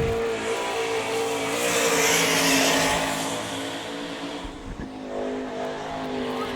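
A sprint race car laps a dirt oval during an All Star Circuit of Champions event at Sarver, Pennsylvania, its loud engine roaring up as it passes close, then easing off as it moves away.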